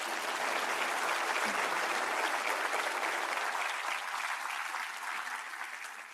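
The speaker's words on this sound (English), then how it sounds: "Please join me in extending a warm welcome to our exceptionally visionary leader, Mr. Shrikant Bola, with a round of applause." Sustained audience applause at a festival in Pune welcoming a leader to the stage, a dense, even roar of many hands clapping for several seconds that tapers slightly at the end, with no talking.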